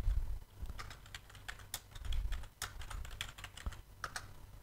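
Someone types a search phrase on a computer keyboard, a quick run of light clicking keystrokes with short pauses, close up over a faint low hum.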